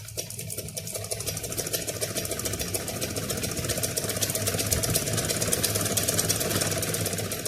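A sewing machine runs steadily, stitching through a double layer of fabric with a rapid, even mechanical chatter. It is close and loud and keeps up without pause for several seconds.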